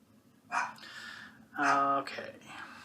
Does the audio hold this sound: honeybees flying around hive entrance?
no